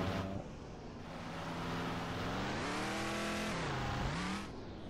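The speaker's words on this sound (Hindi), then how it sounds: "गेट खुला है, तो गाड़ी को सीधा अंदर एंटर करवा लेते हैं" A vehicle in Ranch Simulator drives in through an open ranch gate, its engine loud and close, with the pitch rising and falling steadily as it moves along and then settling.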